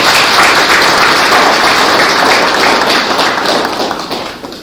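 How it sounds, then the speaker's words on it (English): An audience at a national theological seminar claps after a presentation, a loud, dense and continuous wash of applause that fills the room and tapers off near the end. "Shall we give a round of applause?"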